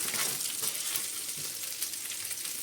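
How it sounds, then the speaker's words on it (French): Chicken gyoza frying in sesame oil, a steady broadband sizzle with fine crackling that holds evenly throughout, close and alone with no voices. "Je vais mettre un peu d'huile de sésame dessus. Voilà, pour terminer la cuisson."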